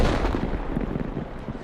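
Tank cannon fire in the World of Tanks video game, a deep booming shot with rumbling echo that rolls on briefly, with no speech.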